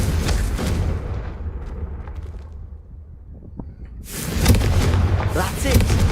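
A Confringo fire spell explodes in the Hogwarts Legacy video game, a loud burst of blast noise that swells near the end over a rumbling game soundtrack, following a quieter stretch.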